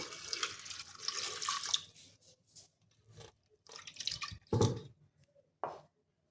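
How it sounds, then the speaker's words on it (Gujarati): Water splashes in short pours into a pressure cooker: a longer stream, a pause, then two brief splashy bursts, close and fairly quiet. "તો હવે આપણે એમાં અડધી ગ્લાસ જેટલું પાણી ઉમેરી લઈશું"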